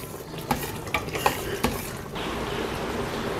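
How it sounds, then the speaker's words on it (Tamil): A spoon clinks and scrapes several times while mutton curry with turmeric is stirred in a pot, then a steady sizzling hiss continues. "இப்போ நல்லா கிண்டி விடலாம்."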